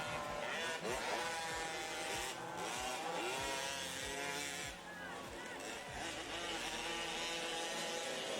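Motocross bikes race side by side on a Tagaytay track, several engines revving and rising and falling in pitch with repeated throttle sweeps, under crowd noise and a commentator's voice.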